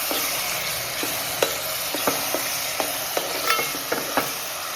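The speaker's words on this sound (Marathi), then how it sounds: "त्याला आता आपण टॅमॅटो टाकून घेऊ तेल मस्त तेलामध्ये परतून घ्यायचं आपल्याला" Tomatoes sauté in oil, a steady close sizzle broken by regular light clicks and scrapes of stirring, with no voices.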